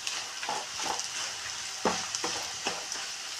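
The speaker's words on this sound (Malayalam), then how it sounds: "അതുവരെ നമ്മളൊന്ന് ഇളക്കി കൊടുക്കണം, അല്ലെങ്കിൽ അത് കരിയും." A papaya mixture frying in a pan is stirred with a utensil, giving a steady close sizzle broken by several scraping strokes, each a short rasp against the pan, with no voices.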